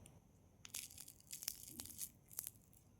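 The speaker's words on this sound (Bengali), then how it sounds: "আওয়াজ শুনে বুঝতেই পারছো যে কতটা কুড়মুড়ে হয়েছে" Deep-fried drumstick-flower fritters, sojne phuler bora, are bitten in a few faint, crisp crunches and crackles scattered over a quiet few seconds, with no talking.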